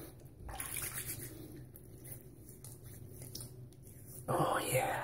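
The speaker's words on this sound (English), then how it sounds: "Now let's go ahead and rinse this off." Water from a tap rinsing off a straight razor during a shave, soft running and splashing with a louder gush near the end.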